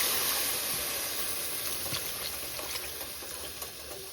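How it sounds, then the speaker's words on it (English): Milk poured into a hot pan of sausage sets off a steady, hissing sizzle that fades slightly over a few seconds, with no talking. "You're going to hear the pan sizzle"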